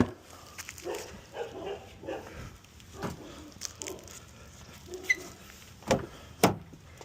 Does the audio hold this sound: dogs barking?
yes